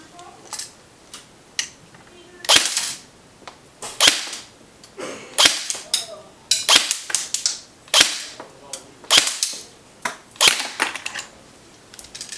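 Single shots from an Echo 1 MP5-A5 Master Series airsoft electric gun fitted with a CQB gearbox: sharp, close, snappy cracks fired one at a time at a roughly steady pace, about a dozen across the stretch.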